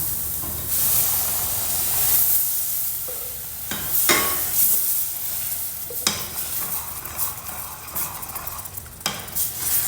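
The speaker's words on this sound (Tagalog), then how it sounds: "Sunod natin yung kamatis. Na-blend na natin." Blended tomatoes poured into a hot pan for a shrimp maraq, erupting into a loud steady hiss and sizzle with occasional sharp bursts and stirring scrapes, close and continuous.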